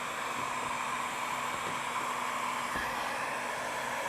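A heat gun blows steadily on vinyl wrap over the reflector of a 2022 BMW G80 M3, a constant close airy whoosh with a faint whine throughout.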